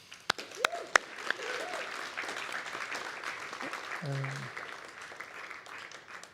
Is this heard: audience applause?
yes